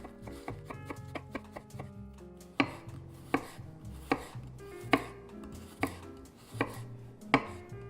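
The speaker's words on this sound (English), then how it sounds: "thinly sliced shallots or a medium-sized onion" A knife thinly slicing shallots or a medium onion on a cutting board gives sharp, evenly spaced chops about one per second, close up, with background music underneath and no talking.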